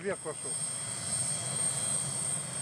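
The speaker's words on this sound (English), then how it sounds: "The Antonov 74 is specially designed to operate in the harsh Arctic climate." Engines of an Antonov An-74 aircraft hum at an Arctic ice airport near the North Pole, a continuous steady drone with a high whine, while a voice talks briefly at the start.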